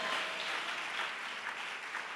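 A church congregation claps hands together, a dense, even wash of applause heard at a modest distance for a couple of seconds without speech.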